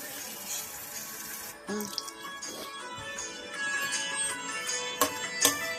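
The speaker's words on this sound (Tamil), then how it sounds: "ஒரு டம்ளர் கோடோ மினிட்க்கு 4 டம்ளர்ஸ் தண்ணி ஊற்றணும்" Water poured by the tumbler into a pot of kodo millet for coconut milk rice, a soft running splash with drips and clinks that grows fuller toward the end.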